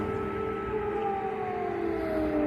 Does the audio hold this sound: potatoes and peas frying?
no